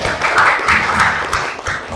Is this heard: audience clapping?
yes